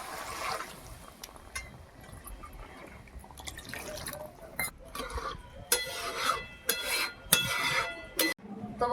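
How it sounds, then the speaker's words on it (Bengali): Water poured into a pan of tomato-cooked vegetables in a light curry, faint drips and splashes with occasional clinks of a utensil against the pan in a quiet kitchen. "এবারে জল দিয়ে দেবো"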